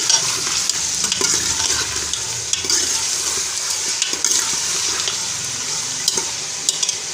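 Chicken with white beans sizzles and fries in a pan, with repeated stirring scrapes and clacks over a steady loud hiss; no talking.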